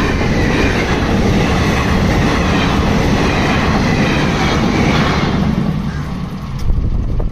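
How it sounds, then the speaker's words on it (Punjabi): A train rolls past close by with a loud, steady rumble and rhythmic clatter of wagons on the rails that holds for the whole stretch. No one speaks. "ਟ੍ਰੇਨ ਆਈ ਤਾਂ ਹੈ"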